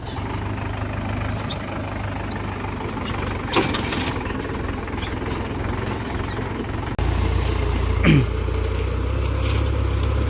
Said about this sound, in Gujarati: આજે ટ્રેક્ટરથી વાવણી થાય છે